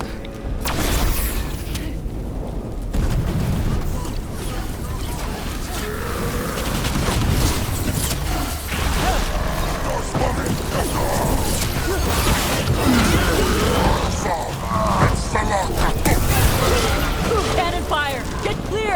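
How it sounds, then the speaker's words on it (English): Video game cannon fire and explosions, a continuous barrage of booming crashes and clattering impacts filling the whole stretch with no speech over it. "Cannon fire! Get clear!"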